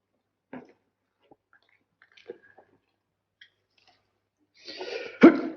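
After a few faint scattered noises in near silence, a single loud, close sneeze bursts out at the end.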